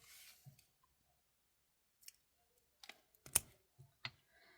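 Small cutters snipping through a stainless steel jewelry chain, a few faint isolated clicks and one sharper snip near the end, close and quiet.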